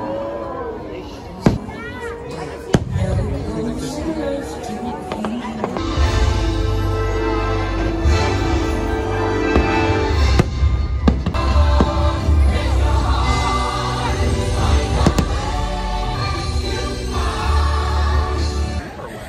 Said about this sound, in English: Done with the fireworks. I cried because they were so good.